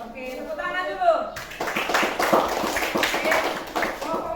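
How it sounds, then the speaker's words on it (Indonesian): A classroom group of students gives a short, quick round of hand clapping, busy and fairly close, that follows a teacher's voice. "tepuk tangan dulu."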